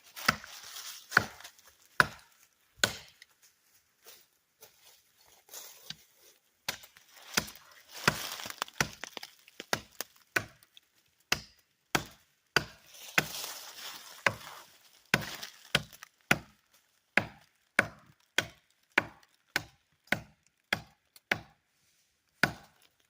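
Sharp, woody chops of a Japanese axe into hemlock fir, struck one after another at an uneven pace, each a crisp close knock with faint splintering, some strikes softer than others.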